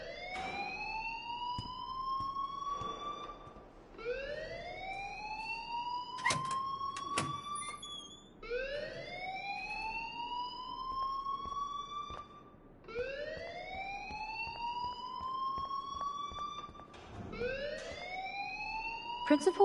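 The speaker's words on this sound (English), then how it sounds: "please turn off that alarm since that's your job" Rising-and-falling wailing alarm sounding in the Life is Strange Remastered video game, repeating in steady cycles of about four seconds, loud and continuous with faint clatter beneath.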